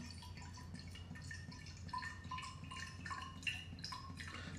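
Rhubarb juice and water spritzer being poured into a glass, a quiet, close trickle with soft dripping and splashing, faint and without talk.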